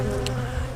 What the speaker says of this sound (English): They're just buzzing really, frantically saying, get out of here